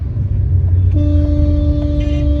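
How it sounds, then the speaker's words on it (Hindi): Delhi street traffic rumbles loud and close with a steady low drone, then a car horn sounds one sustained honk partway through, with fainter horn toots layered over the traffic noise. "एक तो दिल्ली का ट्रैफिक इतना है, हर जगह ट्रैफिक लगा रहता है।"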